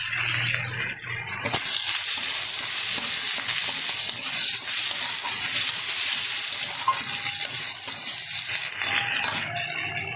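Spices and half a spoon of turmeric being stirred with tomatoes in a hot frying pan for a Bengali crab curry, a steady close sizzle and frying hiss with scraping stirs running throughout, no voices.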